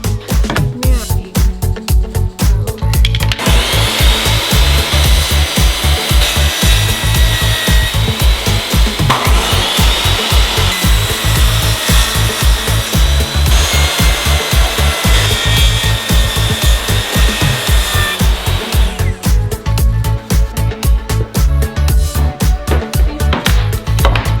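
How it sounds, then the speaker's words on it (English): A miter saw cuts shiplap boards with a loud, continuous whining buzz layered over a steady rhythmic rumble, the blade's pitch holding through a long cut before dropping back to the motor's pulsing hum. "I needed to cut down a couple more on my miter saw before ripping them down on the table saw"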